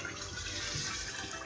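About half a cup of water pours into a pan of beef keema aloo, giving a steady, fairly faint rushing splash that lasts throughout without speech.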